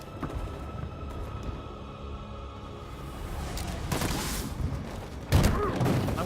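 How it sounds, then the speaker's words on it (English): Pistol gunfire aimed at a tank in the video game Detroit: Become Human: a few sharp, booming shots stand out over a constant bed of game noise, with the loudest blast near the end. "gonna use this pistol to shoot the tank to death"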